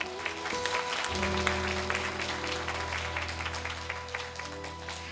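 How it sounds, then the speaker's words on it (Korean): Guests at an interfaith commemoration ceremony clap moderately over a steady hum of music or amplified tones, the applause scattered and fairly soft beneath the sustained background. "박수 부탁드립니다."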